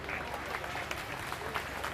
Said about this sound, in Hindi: बाबा बोर शाह जी वास्ते एक बार तालियां बजा दी,